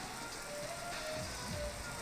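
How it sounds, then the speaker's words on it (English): Steady rain of a shower that keeps intensifying, a soft, even hiss with faint scattered patter, heard at low level throughout with no break. "The rain only intensifies."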